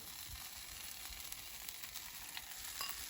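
Veggies and cheese for a quesadilla fry in a pan with a soft, continuous sizzle and a few light crackles, quiet and close with no talking.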